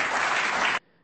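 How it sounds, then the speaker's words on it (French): Dense crowd applause after a Sarkozy speech, a loud wash of clapping that cuts off abruptly into near silence. "c'est sous un tonnerre d'applaudissements"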